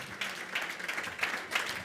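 A summit audience claps briefly, with scattered applause pulsing in small bursts that stay moderate and fairly close.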